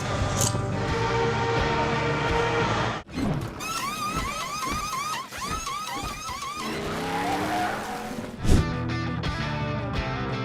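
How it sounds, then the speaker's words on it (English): A race car roars and revs with tire squeal and skidding, engine pitch rising and falling through a brief, busy burst of loud motor noise. "A lightning speed pit stop looks like this."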